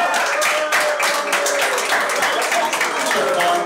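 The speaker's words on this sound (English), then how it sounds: "Let's get a round of applause for" An audience at a live comedy show in New York claps and applauds, a short lively patter of many hands close to the microphone, with some voices mixed in.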